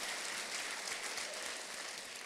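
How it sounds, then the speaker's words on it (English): A university audience applauds in a dense, continuous rush of clapping, faint and distant, with no voices over it. "I'll take a round of applause for that."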